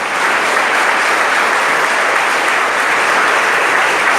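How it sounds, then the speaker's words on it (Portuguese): Loud sustained applause from a large church congregation fills the room, an even, unbroken wash of many hands clapping at once. "Você que crê, aplauda forte,"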